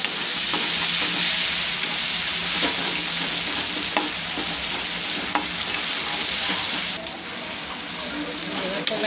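Khichdi vegetables with tomato and Maggi masala stirred in a hot pan, a close continuous sizzle broken by scraping spoon strokes, and the frying hiss drops a little toward the end.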